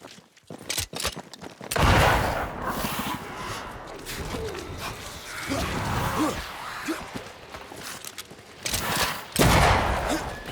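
Gunfire comes in bursts during Banishers: Ghosts of New Eden gameplay, several loud clusters of shots mixed with rumbling game effects and scattered vocal sounds.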